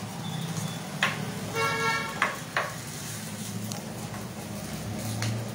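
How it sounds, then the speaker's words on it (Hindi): Food roasting in a pan with ghee until golden brown and crisp, a soft steady sizzle under a low hum, broken by a few sharp clinks and scrapes of a utensil. "गोल्डन ब्राउन हो जाए और थोड़ा सा क्रिस्पी हो जाए तब तक हम सेकेंगे"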